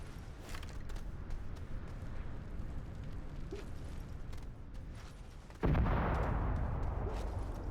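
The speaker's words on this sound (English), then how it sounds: "I love hearing the explosions off in the distance." Distant explosions rumble in the Astroneer video game, a steady low booming backdrop that swells into a louder, sustained roar partway through, with no talking.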